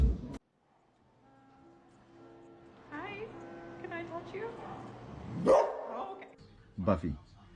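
A dog gives a few short, sharp barks and yips near the end, after a stretch of quiet tonal sound and low rumble.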